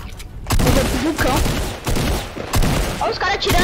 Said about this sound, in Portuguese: Olha os caras atirando.